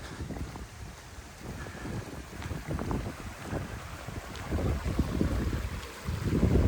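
A stream in Dovedale, Peak District, rushes and gurgles continuously nearby, a fluctuating, fairly loud flow with no one speaking.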